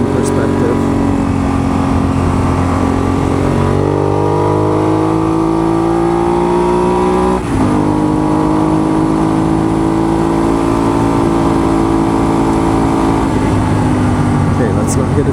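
A motorcycle runs down a road, the continuous engine drone rising and falling in pitch as it shifts and accelerates, with wind noise and a rider talking over it.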